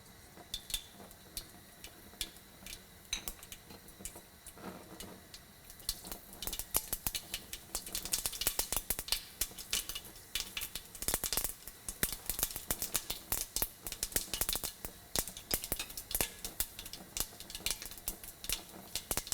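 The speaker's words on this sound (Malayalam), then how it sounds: "എണ്ണ ചൂടായി കഴിയുമ്പോൾ കടുകിട്ട് പൊട്ടിക്കുക." Mustard seeds spluttering in hot coconut oil for a Kerala shrimp theeyal, a dense crackle of rapid pops that starts sparse and builds into steady close sizzling.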